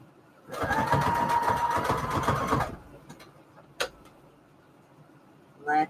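Sewing machine running a decorative stitch on fabric ruffles: a rapid steady mechanical whirring burst for about two seconds, then stopping, followed by a couple of faint clicks.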